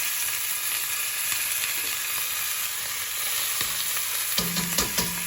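Ramen ingredients fry and brown in a very hot pan, giving a steady close sizzle that runs throughout, with a few sharp clanks of stirring near the end.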